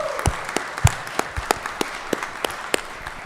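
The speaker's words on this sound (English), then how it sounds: "let's give Miss Brass a round of applause here." Scattered, sparse clapping rings out in a legislative chamber during a 2024 session day, a dozen or so sharp separate claps in an uneven rhythm rather than a dense ovation.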